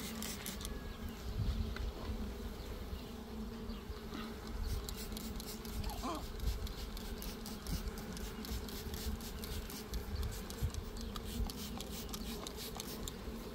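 Honeybees buzz steadily around an open hive frame brushed with sugar syrup during a second-storey queen-rearing setup, a dense continuous hum near the microphone with no talking.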